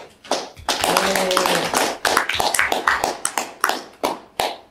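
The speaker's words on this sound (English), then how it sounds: "Oh, there's some online clapping." Scattered hand clapping from several people at a Utah Node.js meetup presentation, a dense burst that thins into irregular individual claps, with speech partly mixed in.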